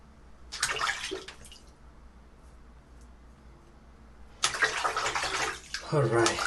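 Water runs from a tap in two bursts while a razor is rinsed after shaving, loud splashing near the microphone separated by a quieter pause.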